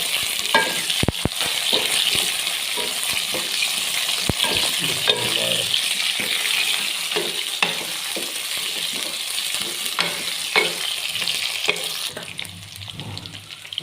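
Potatoes fry and sizzle in oil with browned onions for an Urdu-style mixed vegetable sabzi, a steady close crackle broken by clinks and scrapes of a stirring spoon, with a brief tap-water splash near the end.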